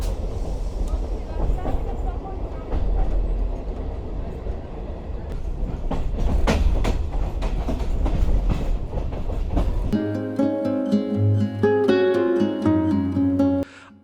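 Passenger train rolling on rails into Adra Junction, a steady loud rumble with clicking wheel beats, then a sharp shift to sustained tonal squeal and hum as it slows near the platform.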